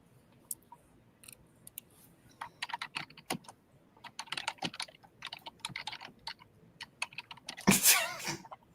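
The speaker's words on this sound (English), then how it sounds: "That's some heavy typing" Someone types fast and hard on a computer keyboard, close by, with irregular bursts of sharp key clacks that thicken into dense runs, ending in a louder clatter.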